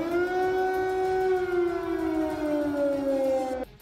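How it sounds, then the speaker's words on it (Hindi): An air raid warning siren wails in a Ukrainian city, a single loud sustained tone that slowly sinks in pitch before cutting off abruptly, with no voices. "वहां के कई शहरों में खतरे के सायरन भी सुनाई दिए थे"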